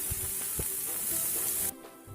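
Green chili pieces frying in hot oil give a steady bright sizzle with a few soft pops and stirring knocks, then the hiss cuts off abruptly near the end.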